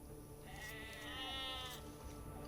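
Sheep in Age of Empires 2 bleat once in a clear, wavering cry lasting about a second, heard over a quiet steady background hum with no talking.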